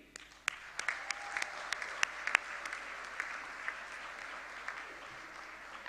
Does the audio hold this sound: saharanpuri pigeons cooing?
no